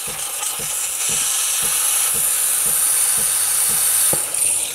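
A Barista Express espresso machine's steam wand hisses steadily into whole milk, a loud close continuous roar with faint rhythmic ticking beneath.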